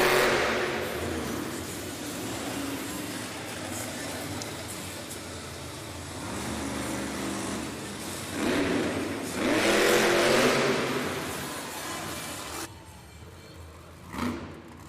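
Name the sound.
Sparkle Smash monster truck engine revving at Monster Jam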